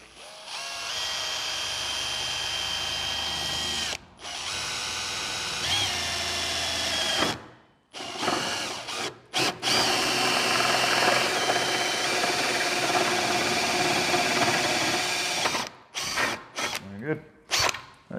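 A hole saw on a power drill cuts through metal trunking with cooling gel applied, a loud steady grinding whine that stops briefly around the middle, then resumes and ends in short bursts.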